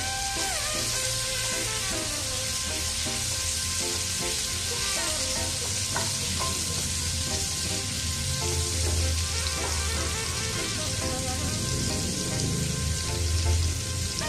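Butter melting in a pan for stuffed garlic bread gives off a dense, continuous crackling sizzle that stays loud and even throughout, with a faint low hum underneath and no talking.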